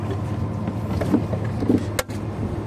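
A rescue boat's engine idles steadily at a low, even rumble, with a short sharp click or clunk partway through and no talking.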